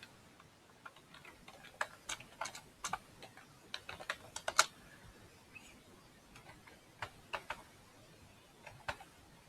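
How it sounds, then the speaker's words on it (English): Typing on a computer keyboard to enter an email address, a run of quiet, irregular key clicks with short pauses, close and alone with no talking. "So I type here mail.miuegypt.edu.eg and I'll type my email."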